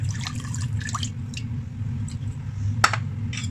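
Water poured into a teriyaki sauce mixture of garlic, soy sauce, vinegar and sesame oil, heard as a few short close splashes and drips over a steady low hum.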